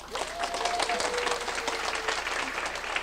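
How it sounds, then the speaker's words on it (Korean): A roomful of people bursts into applause for a portrait painted of a Korean lawmaker, steady, dense clapping with a voice briefly heard over it. "박수 한번."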